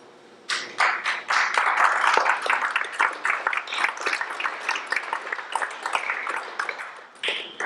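An audience applauds after a poetry reading by Edward Hirsch: dense, sustained clapping starts abruptly and carries on for several seconds, thinning into scattered claps near the end.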